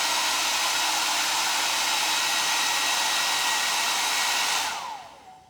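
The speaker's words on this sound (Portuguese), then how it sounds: "vou secar aqui com o secador" A hair dryer blows loud and steady on a plaster piece being restored, a constant whooshing roar that cuts off and winds down near the end.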